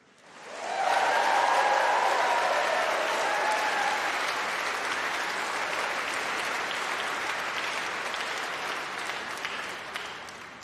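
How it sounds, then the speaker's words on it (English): Sustained applause from a large crowd at a university graduation congregation, with scattered cheers, swelling quickly and holding steady, loud and close throughout. "let's have another round of applause and some cheers purely for them"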